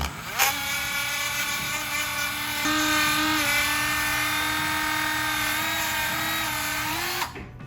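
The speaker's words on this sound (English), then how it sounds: "Now I'm going to clean the bore using one of these fuzzy cleaning things for a Dremel" A Dremel rotary tool spinning a fuzzy cleaning attachment inside a Porsche 914 auxiliary air regulator bore starts with a click, then whines at a high steady pitch for several seconds, rising slightly partway through, before cutting off sharply.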